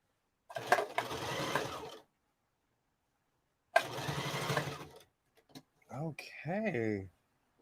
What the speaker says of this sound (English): I was sewing with nothing in the bobbin.